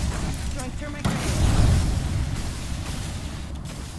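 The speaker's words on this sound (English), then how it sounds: "Throwing thermite grenade." A thermite grenade lands in the video game Apex Legends, bursting with a sudden loud whoosh about a second in, then a sustained, roaring fiery rumble that fades slowly amid game noise.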